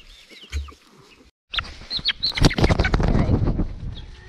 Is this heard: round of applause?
no